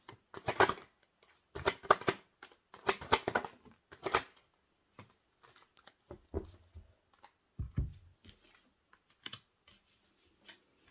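Cards being shuffled in quick, crisp bursts, followed by softer taps and slides as cards are drawn and laid down, close and fairly quiet.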